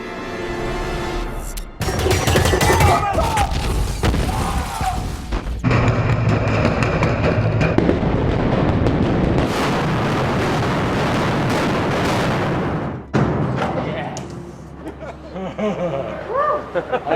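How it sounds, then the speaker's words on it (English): Pyrotechnic explosions and giant fireballs go off on a film set, a heavy boom followed by a long roaring blast, then more booms, with crew voices heard around them. "And then after that, we'll do the big giant fireballs."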